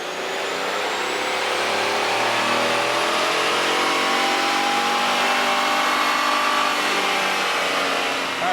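A pickup truck engine revs hard on a dyno, holding a loud, steady sustained roar whose pitch climbs slowly across the run, with no talking.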